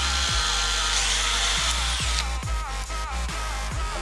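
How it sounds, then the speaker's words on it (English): A power drill bores into the side of a shell clamped in a vise, running with a continuous high whine and a few brief dips as the bit bites into the shell. "get your shell, put it in the vise, get your drill, and drill straight into the side of here"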